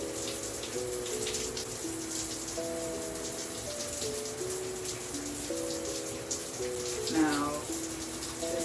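Shower water runs onto skin during a shea sugar scrub body-care routine, a steady soft hiss heard alone under gentle background music, with a brief splashier burst near the end.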